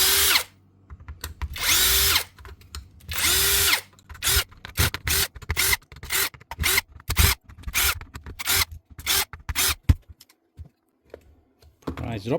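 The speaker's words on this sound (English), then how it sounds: "Just blow this down quickly with the compressor first." Compressed air from a compressor blows down a broken power tool on a repair bench in loud, close hissing blasts, a few long ones and then many short rapid bursts with gaps of silence.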